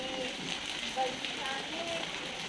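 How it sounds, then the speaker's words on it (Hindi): Heavy monsoon rain pours down steadily on Janmashtami, a dense even hiss of drops on surfaces with a faint voice blended into the wash. "देखु एत जोर वर्षा हो जन्माष्टमी प्रबल वर्षा"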